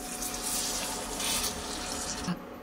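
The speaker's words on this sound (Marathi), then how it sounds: "पाणी घालूया।" Water is poured into a cooking pan holding fried onion, masala and soybean, a brief, steady splashing pour heard close up.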